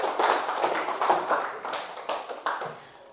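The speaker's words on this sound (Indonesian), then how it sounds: "Kalian, kita beri tepuk tangan dulu untuk Rizka." Classroom applause for a student during a high school biology lesson, a short scattered round of fairly quiet clapping with a few sharper claps, fading out toward the end.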